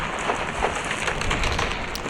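Steady rain in the Roblox game Barry's Prison hisses continuously at an even, fairly loud level, with no voices over it.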